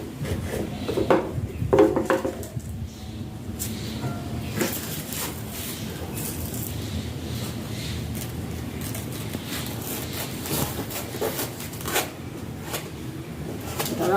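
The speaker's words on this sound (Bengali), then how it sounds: "কচু শাকটা এখন কাটবো।" Taro leaves (kochu shak) being cut in a home kitchen, with repeated crisp chopping and rustling of leaves and stems, irregular knocks and scrapes close by, and a voice speaking briefly near the start.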